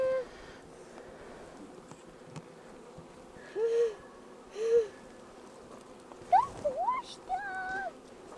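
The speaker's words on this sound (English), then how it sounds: "There's a bunch of bees as well." A low, steady buzz of bees hums throughout, with a few brief squeaky whistles and thumps rising above it.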